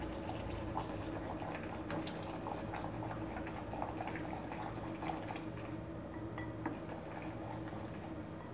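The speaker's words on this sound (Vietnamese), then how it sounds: "cái nồi nước bé bé của ta đã sôi rồi" A small pot of water boils on a stove in a home kitchen while tofu pudding is being made, giving soft, quick, irregular bubbling and ticking pops that run steadily and quietly throughout.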